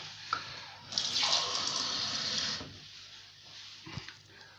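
Tap water running into a glass at home after a run, a brief rushing pour of about a second and a half, close and moderately loud, then quiet room sounds.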